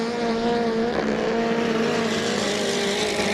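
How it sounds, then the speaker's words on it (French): A Honda-powered racing hydroplane boat drones steadily at a distance during a regatta in Valleyfield, a continuous high engine whine with sustained tones over broad water and crowd noise. "Et le moteur Honda de Mathis Gabriel Chiasson qui a démontré une belle puissance, une bonne accélération."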